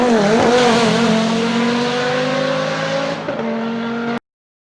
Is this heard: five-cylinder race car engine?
yes